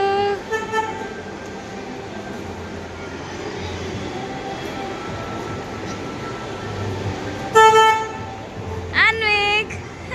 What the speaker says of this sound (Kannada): ಬಂತು ಬಂತು ಅನ್ವಿಕ್ ಟ್ರೈನ್ ಬಂತು.